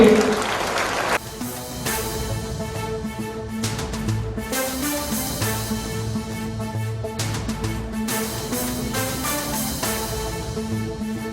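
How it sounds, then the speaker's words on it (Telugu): An audience claps for a schoolgirl at a televised event, sustained applause over a tonal music bed that runs the whole time. "అమ్మాయికి మరొకసారి గట్టి క్లాప్స్ చూడండి"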